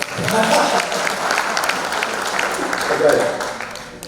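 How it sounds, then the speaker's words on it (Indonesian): Talk show audience clapping for a few seconds, a dense and moderately loud patter that swells and fades, with a voice speaking over it. "berikan tepuk tangan sedikit dong"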